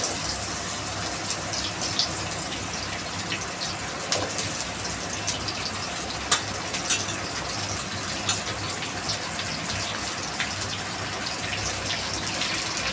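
Vegetables go into hot oil tempered with mustard seeds, fenugreek and cumin for sambhar, giving a steady rushing sizzle with scattered small pops and crackles, close and continuous, with no speech.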